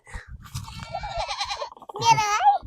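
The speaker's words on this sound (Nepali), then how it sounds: "बाख्रा" A goat bleats twice near the end, loud and wavering, after a stretch of overlapping vocal sounds in a village setting with people nearby.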